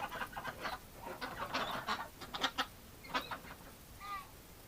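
Ducks in a winter barn give scattered, fairly quiet calls and squawks, a few separate bursts close by with short pauses between them.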